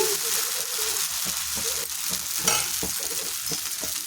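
Karam dosa batter spread on a hot pan over high flame hisses steadily and fairly faintly, with soft scattered taps.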